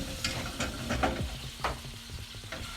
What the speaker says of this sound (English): just going to mix that into our sauce